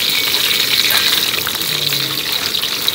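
Salted terubuk fish frying in hot oil in a pan gives a loud, close, steady crackling sizzle that hisses without pause for the whole stretch, with no voices over it.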